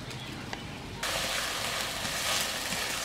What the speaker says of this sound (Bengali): আমি এবার মশলাটা কষে নেব